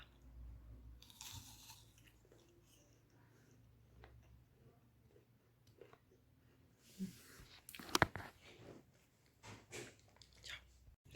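Someone bites into and chews a raw apple, with faint, close, irregular crunches and mouth sounds over quiet room noise, followed by a few louder clicks and bumps.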